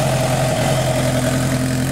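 A Kawasaki Ninja sport motorcycle engine idles steadily with a low, throbbing pulse and constant vibration, no voices present.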